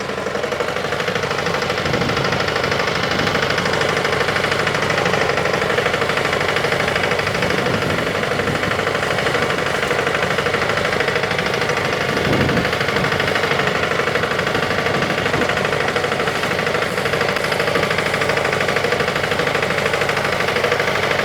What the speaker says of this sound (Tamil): இப்போ பிடிஓ ஆன் பண்ணியாச்சு இன்ஜின் ரேஸ் வந்து பார்த்திங்கன்னா ஒரு ஐடியலான ஸ்பீடில் வச்சுக்கணும்